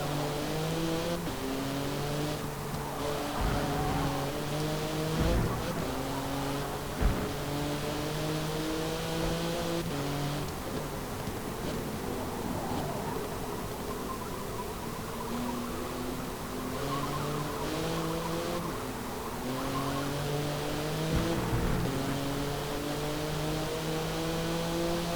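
A Ferrari race car engine in Forza Motorsport 7 screams up through the gears, with repeated rising pitch sweeps, sharp shifts and brief tire skids, loud and close, with no talk over it.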